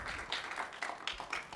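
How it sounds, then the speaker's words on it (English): Audience at a pitch competition claps, a scattered run of hand claps with a few cheers, fairly faint and uneven. "give yourselves one more round of applause"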